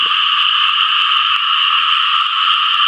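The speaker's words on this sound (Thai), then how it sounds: "เสียงกบเสียงเขียด" A dense chorus of frogs croaking in a rural Thai field at night forms a loud, continuous, buzzing wall of calls throughout, with no talking.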